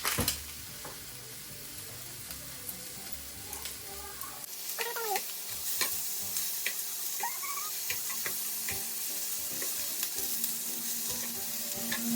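Garlic and onion sauté in a hot pan at home with a steady sizzle and occasional stirring. Running tap water and dish clatter are heard in the background.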